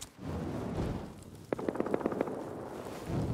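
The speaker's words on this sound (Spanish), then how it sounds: "Escucho balazos." Rapid burst of video game gunfire, a quick run of sharp shots in a tight cluster near the middle, heard over a steady low background rumble with no talking.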